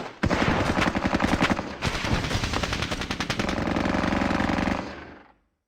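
Sustained automatic gunfire rattles in the Squad Battles Eagles Strike war game: loud, dense machine-gun bursts with overlapping shots that run continuously, then cut off abruptly into silence.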